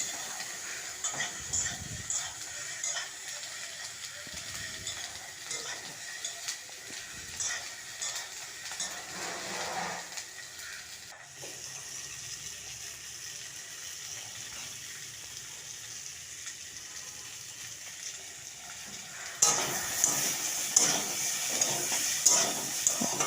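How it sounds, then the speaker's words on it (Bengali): Peas and potatoes fry in a pan, a soft steady sizzle with occasional stirring scrapes, brightening and growing louder near the end, with no voices. "মটরশুঁটি তো আলুর মধ্যে দিয়ে ভালো করে ভেজে নেব"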